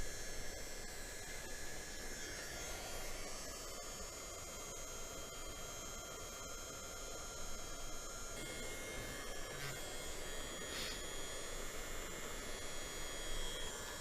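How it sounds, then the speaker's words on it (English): A hair dryer blows steadily at close range on heat shrink tubing, a constant whooshing roar with a faint whine, unbroken for the whole stretch with no talking. "and the hair dryer will do the rest."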